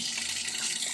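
A newly installed bidet sprays water in a steady, close, hissing jet with no breaks and no voices.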